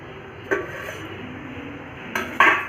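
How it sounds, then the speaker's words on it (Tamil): A pot of cooked dal for a South Indian keerai masiyal is opened, with a sharp metallic clink of the lid near the start and two more clanks near the end over a quiet kitchen background. "இப்போ வந்து நம்மளோட பருப்பு வெந்துருச்சு நம்ம பார்ப்போம் திறந்து பார்ப்போம்"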